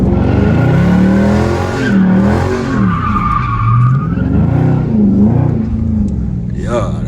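A Dodge Charger Scat Pack spinning out, its tires squealing loudly and continuously in wavering pitch over a roaring engine, close up, with voices talking beneath the noise.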